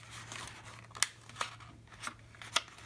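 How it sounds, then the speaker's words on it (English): Paper is folded for an origami envelope, with a few sharp creasing crackles and crinkles standing out over quiet background. "I'm going to push on this diagonal and fold from up here"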